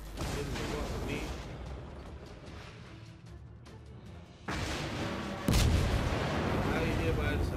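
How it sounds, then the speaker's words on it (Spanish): Battleship gunfire in World of Warships, with the USS New York taking hits: rumbling cannon booms and impacts over continuous battle noise, a sharp heavy blast landing near the end, with someone talking over the action. "Ya me está disparando."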